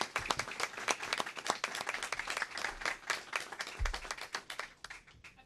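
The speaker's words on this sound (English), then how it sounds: "I'd like to give a special round of applause to Megan Griffin for narrating." An audience at a school committee meeting bursts into applause, a dense run of clapping lasting several seconds, close and fairly loud before tapering off.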